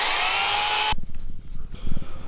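Power drill boring a hole into a tree trunk, a loud steady whine that cuts off abruptly, followed by low rumbling handling noise as the bit stops.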